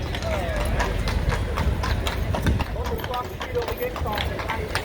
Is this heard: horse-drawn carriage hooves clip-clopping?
yes